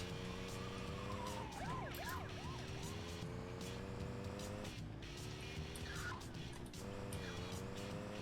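A police siren in GTA 2 wails with a rising and falling tone over steady engine noise, sounding during a car chase, with a screech of tires along the way.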